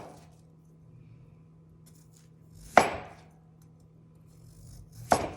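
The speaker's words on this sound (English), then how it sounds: "I like to just take this and cut it into equal rounds, doing about 1/4 of an inch" A knife slices through a whole jicama, cutting it into equal rounds about a quarter inch thick. Two crisp, separate chops land a few seconds apart against a cutting board, with quiet room hum in between.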